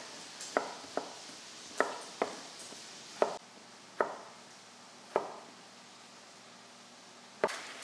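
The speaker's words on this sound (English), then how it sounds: "if you cut your own potatoes for a recipe like this" A knife chops through potatoes on a cutting board for a breakfast casserole, giving about ten sharp, separate thuds at an uneven pace, close by and clear against a quiet kitchen with no talking.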